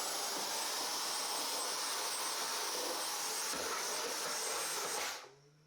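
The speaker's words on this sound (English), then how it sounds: "just give it a quick hit with the vacuum" A vacuum cleaner roars steadily up close, sucking up drill debris from pilot holes in a cabinet, a loud continuous broadband whoosh that cuts off abruptly near the end.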